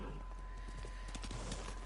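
Horse hooves clip-clopping steadily in Ghost of Tsushima, a close, regular rhythm of hoofbeats over a constant low rumble, with no talking.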